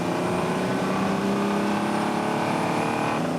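Car engine running at steady high revs as it drives, a loud continuous droning hum with no break for a gear change.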